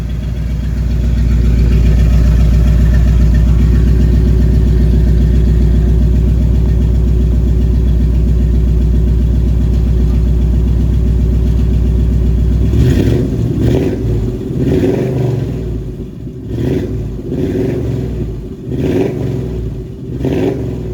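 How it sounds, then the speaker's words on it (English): A 1969 Ford Bronco with a 302 V8 and Flowmaster dual exhaust, heard close up: a deep, loud, steady idle rumble for about thirteen seconds, then several sharp throttle blips that rise and fall. "It's got a really nice sounding Flowmaster dual exhaust. I'll let you hear it running."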